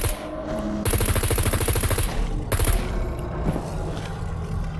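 Rapid automatic gunfire in the survival video game Scum, loud repeated bursts of closely spaced shots with brief pauses between volleys, mechanical clatter mixed in.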